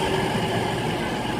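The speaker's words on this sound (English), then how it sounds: "this train I believe is on its way to Southampton Central" A Class 221 diesel train at Basingstoke Station bound for Southampton Central, a steady close rumble of engine and rolling wheels filling the platform with no voices.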